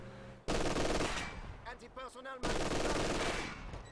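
MG42 machine gun in a video game firing two long, dense bursts of rapid shots. A short voice-like passage fills the gap between them.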